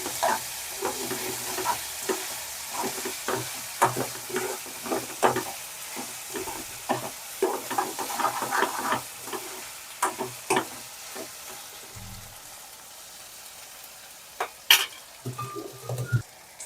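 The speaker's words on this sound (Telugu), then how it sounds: "ఒక ఐదు నిమిషాలు చేపలు మనం ఆయిల్లో ఫ్రై చేసుకున్నాక" Dried fish frying in oil in a pan and being stirred, with a steady sizzle under repeated scraping and clinking strokes from the utensil, close and fairly loud, with a brief sharp clatter near the end.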